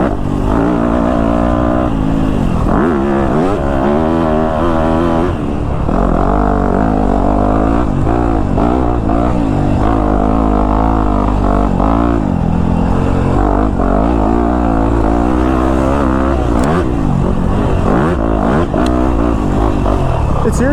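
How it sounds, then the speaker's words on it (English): A 4-stroke dirt motorcycle ridden through the woods, its engine revving loudly and continuously up close with rising and falling pitch as the throttle is held and blipped, with a rider talking over it at times. "for this 4-stroke in the woods, you just want to keep the throttle like just turned a little bit the whole time"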